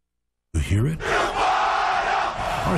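A packed Oregon college football stadium crowd roars loudly and continuously at close range, a dense sustained wall of voices after a brief shout at the start.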